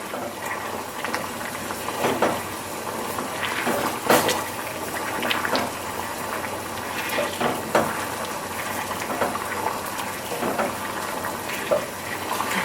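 Dark vegan caramel sauce boils in a pan on a stove, a steady close bubbling hiss scattered with small pops and sputters that runs without a break.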